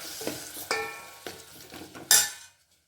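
A spoon scrapes and stirs lentil gravy in a metal pot in a few uneven strokes, with soft clinks and a faint sizzle, ending abruptly in silence.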